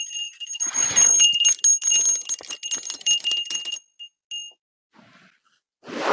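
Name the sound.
bell ringing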